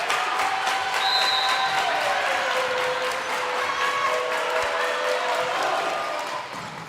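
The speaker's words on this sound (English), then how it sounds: "the crowd behind us is getting pretty loud" A loud crowd cheers and claps in a high school gym during a regional volleyball match as the Raiders prepare to serve for set point, with the roar steady and close throughout before easing slightly at the end.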